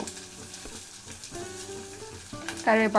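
Onion and curry leaves sizzle and crackle steadily in a frying pan while being stirred, with a louder burst of frying toward the end.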